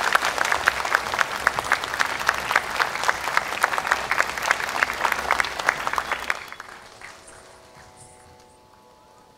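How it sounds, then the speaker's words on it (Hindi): At a Bharatanatyam arangetram in India, an audience gives loud, dense applause with a crisp, slightly rhythmic pattern as a certificate is presented. The clapping drops away sharply near the end, leaving a quiet hall with faint lingering tones. "तालियों की गूंज होनी चाहिए।"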